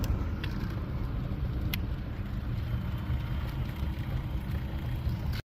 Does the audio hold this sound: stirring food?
no